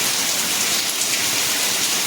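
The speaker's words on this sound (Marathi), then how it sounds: "इतका पाऊस पडतोय बाहेर बघा" Dense, steady roar of heavy rain pouring down, continuous and loud throughout with no pauses.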